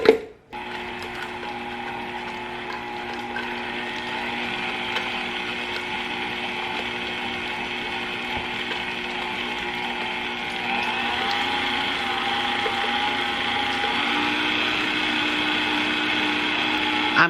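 An electric mixer runs steadily, beating cream cheese with butter, salt and extracts for a Louisiana crunch cake batter, a continuous close whirring hum with a slight shift in pitch partway through and no talk.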